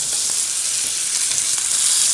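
Steak sizzles loudly and steadily in a hot frying pan just after being flipped, a dense continuous hiss with faint crackles throughout and no voices.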